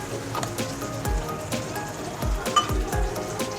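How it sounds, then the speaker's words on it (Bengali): Pointed gourd (potol) pieces frying in a pan crackle and spit in a dense, rain-like patter, close and fairly loud, with a few sharper pops and knocks scattered through. "দেখি পটলগুলো ভাজা হচ্ছে"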